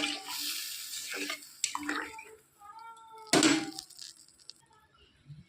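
Spice rinsing water is poured into a simmering fish curry, giving a bubbling splashing burst and then a brief hiss, with a few quiet clinks afterward.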